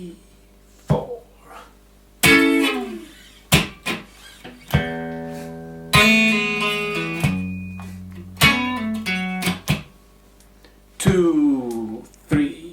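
Electric guitar plays the first step of a song intro: a run of plucked notes and ringing chord stabs, some held and bending, with uneven gaps, close and fairly loud, no talking.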